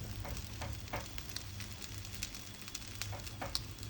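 Crab cakes frying in a pan, giving a steady, soft sizzle with small crackles and pops spread evenly throughout, fairly faint and with no talk over it.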